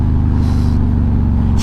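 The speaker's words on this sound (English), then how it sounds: "Don't you love that engine sound?" Harley-Davidson Softail Deluxe motorcycle idling close by, a loud, steady low-pitched V-twin rumble with an even pulsing beat throughout.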